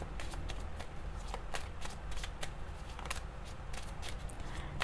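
Tarot cards being shuffled and handled, a soft, steady run of papery riffles and flicks, close but quiet, with no talking.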